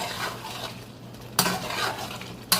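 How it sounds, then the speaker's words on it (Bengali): Potatoes and fried eggs being stirred into masala in a pan, a close, wet scraping and shuffling with two sharp metallic clanks of the utensil against the pan. "এবার একটু ভালো করে নাড়াচাড়া করব"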